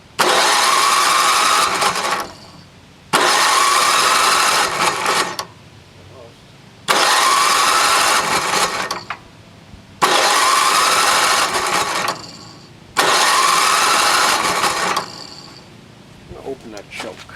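A NOMA 8hp snowblower engine with the choke on and throttle at full is cranked five times in a row, each loud, close burst of sputtering engine noise lasting about two seconds, separated by short pauses, never settling into a steady run.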